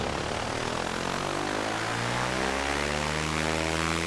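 A2A Simulations aircraft engine in a video game run at full throttle on a cold start in -24F weather, a loud, steady propeller drone with a rising harmonic pitch that holds continuously throughout.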